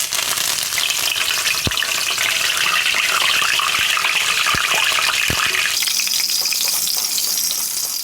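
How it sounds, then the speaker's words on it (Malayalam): Curry leaves frying in hot oil for kaara boondhi: loud, close crackling sizzle with a few sharp pops and spatters, the hiss rising in pitch and brightening toward the end, no voices. "ഈ കരിവേപ്പിലയും കൂടി വറുത്ത് പോരാം."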